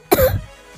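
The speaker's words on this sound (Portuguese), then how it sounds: "Até com tosse aqui." A single short, close, loud cough with a throaty edge from a man playing a soccer management game. It stands alone, with no speech.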